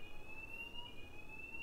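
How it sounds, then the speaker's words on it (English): A fire alarm sounds in a conference hall during a talk, a steady high electronic tone held continuously, faint and distant-sounding. "that's a fire alarm."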